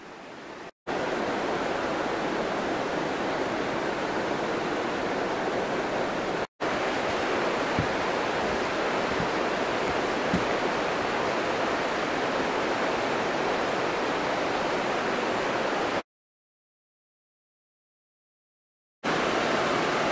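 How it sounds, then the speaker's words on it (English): The Upper Maruria River rushes through a gorge below a swing bridge, a loud, constant roar of whitewater with a couple of abrupt cut-outs, one lasting several seconds. "So there's Cannibal Gorge Bridge over the Upper Maruria River."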